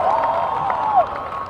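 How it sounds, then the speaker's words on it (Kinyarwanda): Audience applause and cheering in a packed cathedral crowd, a steady dense wash of clapping held at an even level throughout. "amashyi menshi kuri mubyeyi wacu mawe twese"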